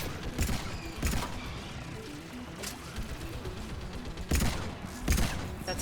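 Turret gunfire in the Mass Effect 3 game: several loud, sharp bursts spaced a second or so apart, punching through a dense, steady din of battle noise, with no talk.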